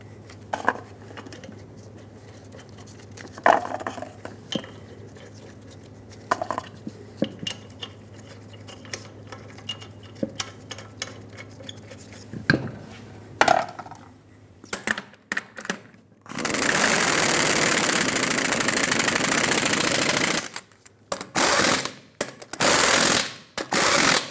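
A torque wrench tightens the lug nuts on a 2003-2009 Dodge Ram 2500 in a cross pattern. Sharp metallic clicks and clanks come in scattered bursts, followed by a loud sustained mechanical burst near the end.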